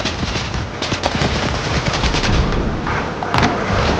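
Gunfire in the video game Fortnite: sharp, loud shots crackle repeatedly in quick irregular bursts over a busy game soundscape, with no voices.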